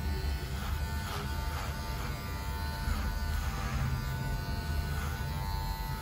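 An electric hair clipper buzzes steadily and loudly up close while giving a buzz cut, a continuous hum with no pauses or talk.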